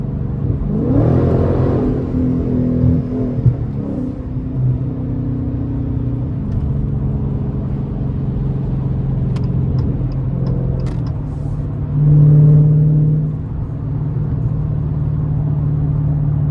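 Dodge 392 SRT Scat Pack driving in morning traffic, a steady low engine drone with a faint thin whine above it, rising briefly in a short surge, heard from inside the car.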